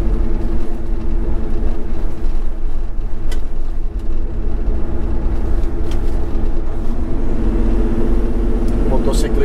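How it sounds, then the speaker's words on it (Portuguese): A BMW motorcycle passes on a road in an American city, its engine drone steady and fairly loud against continuous traffic noise from inside a car. "O motociclista vindo aí."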